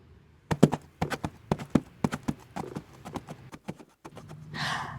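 Horse hooves clip-clop in a quick, uneven rhythm of loud, close strikes as a horse walks toward a castle, ending with a short breathy snort.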